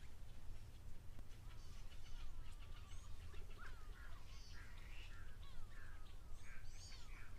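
Black crakes at a waterhole give repeated chattering, squawking calls in short bursts, fairly faint and distant over a steady low outdoor hum.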